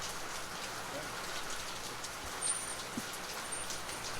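Steady rain falling outdoors, splashing off plant leaves, forms an even, close hiss that runs throughout, with a couple of faint high chirps drifting in the background.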